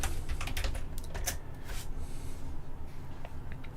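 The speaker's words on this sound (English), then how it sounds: "I use an 8-bit DOE retro keyboard" Keys clacking steadily on an 8-bit DOE retro keyboard, a quick run of close, crisp strokes with brief pauses, set against a low steady background hum.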